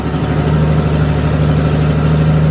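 A Massey tractor engine works hard under throttle pulling a slurry load uphill, a loud, close, steady low diesel drone with no letup.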